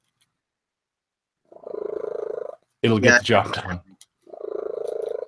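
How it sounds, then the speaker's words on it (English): A cat purrs in two steady, buzzing stretches close to the microphone, each lasting about a second, separated by a short burst of someone speaking. "Yeah, purr on, kitty. Purr on."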